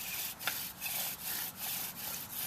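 Rhythmic wooden rubbing of a bow drill spinning, with repeated back-and-forth strokes roughly every half second, close by and fairly quiet.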